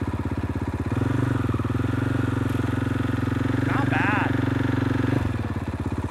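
A dirt bike engine runs at a steady mid-pitched idle while the clutch is slipped in the friction zone, holding an even drone with a slight lift in tone, and a voice comes in briefly partway through.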